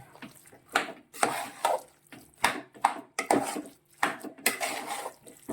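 Irregular scraping and clattering of a spoon stirring thick ground curry paste into ash gourd, cowpeas and tapioca in a metal pot, close by, in uneven strokes with short pauses.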